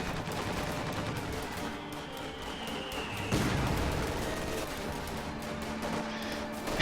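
A mortar half-track fires in a real-time strategy game, its thumping shots blending into a dense, continuous battle din of gunfire and distant blasts, with one sharper report standing out midway.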